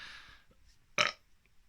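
One short, loud burp erupts close to the microphone after near silence, then quiet returns.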